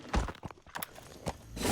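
In a Metal Gear Solid V game scene, D-Horse's hooves clop in a handful of uneven, close, sharp strikes, ending in a rising rush of motion noise.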